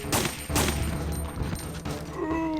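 Gunshots in Resident Evil 3, a few sharp, loud bangs spaced irregularly across a couple of seconds, each trailing off into a rumble, with no talk.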